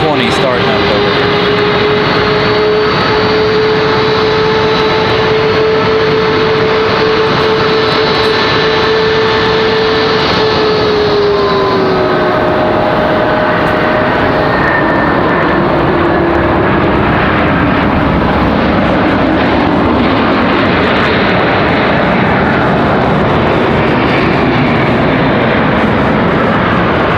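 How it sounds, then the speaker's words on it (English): Airbus A220 jet engines spooling up at a Raleigh Durham airport terminal, a loud steady roar with a rising then falling whine, heard from outdoors with wind and continuous background noise throughout. "A220 starting up over here."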